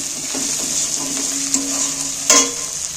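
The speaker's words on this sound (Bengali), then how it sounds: "দেখো পেঁয়াজ রসুনটা ভাজা হয়ে গেছে" Onion and garlic sizzle steadily in oil in a pan while being stirred, with a couple of brief scraping clinks from a utensil against the metal.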